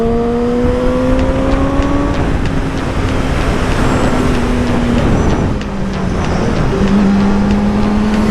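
A motorcycle rides fast on a road near Vyshhorod. A loud, steady engine drone rises and falls in pitch under constant wind rush, heard up close throughout.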